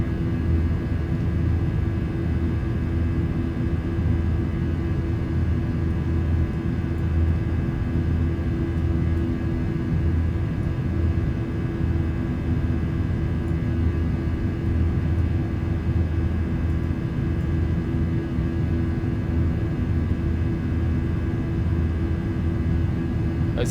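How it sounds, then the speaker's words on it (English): Jet engines of a Ryanair Boeing 737 in a flight simulator game hum in a steady, loud, unbroken drone during the climb, with no talking over it. "Those engine sounds as well are incredible."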